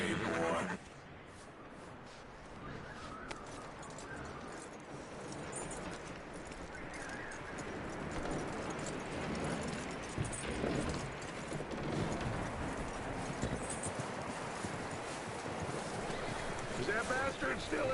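Horse hooves clip-clop in the Red Dead Redemption 2 game, a steady walking rhythm mixed with a whinny, wind and other game ambience while someone talks over it.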